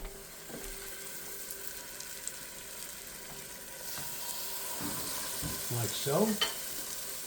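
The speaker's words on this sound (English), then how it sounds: "Now I'm going to take my my beef now" Beef patties going into hot oil in a pan for Salisbury steak, a steady loud sizzle and frying hiss throughout, with brief stirring and scraping near the end and a few spoken words over it.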